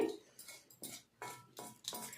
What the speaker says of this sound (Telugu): ఇది బాగా మిక్స్ చేసుకోండి, ఫస్ట్ బాగా కలుపుకోండి.